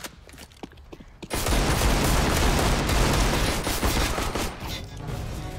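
Counter-Strike: Global Offensive gunfire with a Glock 18: a sustained, loud barrage of rapid shots fills most of the stretch after a few quieter opening shots, dense and continuous with no talk.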